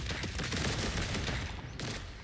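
Flat cannon on a mech in the game Trailmakers firing a dense, continuous burst of loud rapid shots that fills the whole moment, with a slight break near the end and no talk.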